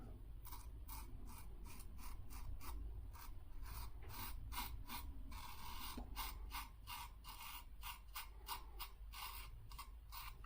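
A cheap hollow plastic razor rasps through several weeks of stubble in a rapid, steady run of short scraping strokes, close and loud, with no talking.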